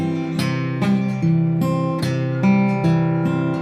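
Acoustic guitar played with a fingerpicking pattern alternating thumb bass notes and finger-picked treble notes, a steady, even rhythm of plucked notes heard up close, alone.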